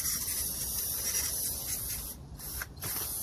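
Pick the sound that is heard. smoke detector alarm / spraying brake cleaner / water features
spraying brake cleaner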